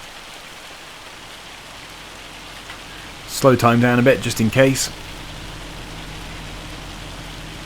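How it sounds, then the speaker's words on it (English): Hail falling steadily in Farming Simulator 25, an even, hissing patter of stones that runs throughout, with someone talking briefly over it midway. "Still showing hail. It's still hailing."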